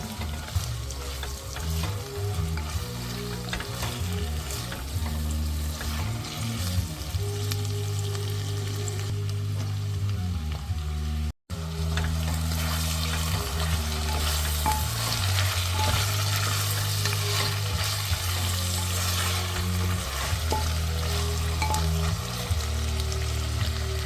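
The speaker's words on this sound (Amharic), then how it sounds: "ካሮቱን አንድ ላይ ትንሽ ከሽንኩርቱ ጋራ ጠበስ አድርገዋለሁኝ።" Carrots and onion frying together in a pan, a loud continuous sizzle with crackling and stirring scrapes, and a very brief gap partway through.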